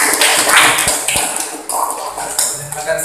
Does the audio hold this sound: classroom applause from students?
yes